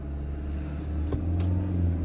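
Car pulling away in first gear on half clutch with light throttle in city traffic, a steady low engine rumble that rises slightly toward the end, heard up close and alone.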